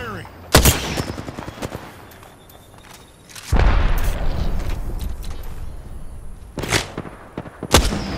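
Video game gunfire with several loud, punchy shots spaced apart, including a heavier booming barrage midway that rumbles on. Quieter game ambience and muffled activity fill the gaps between reports.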